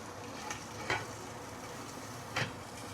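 Fish pan frying on a banana leaf inside a covered wok, giving a soft, steady sizzle with a couple of brief louder crackles and spits over a low, even background.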